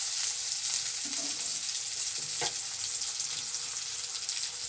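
Brinjal (eggplant) slices fry in hot oil with a loud, steady, close-up sizzle that holds for several seconds; there is no talking.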